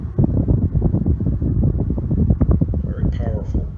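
An R & M 10-inch pedestal oscillating fan with a 6-pole motor runs close by, giving a steady, rough, fluttering whir with buffeting pulses, and a voice joins briefly near the end.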